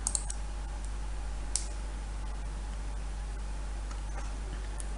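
A few brisk keystrokes on a computer keyboard come at the start, followed by sparse, faint clicks over a steady electrical hum in a quiet room.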